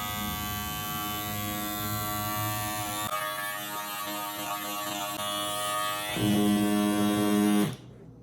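Electric rug leveler shaving down rug pile, a steady close motorized buzz with a constant hum that grows louder and heavier near the end before cutting off abruptly.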